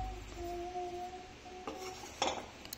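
Mutton liver fry is served into a bowl, with a few faint metal clinks and scrapes of a utensil against the pan and dish in a quiet kitchen.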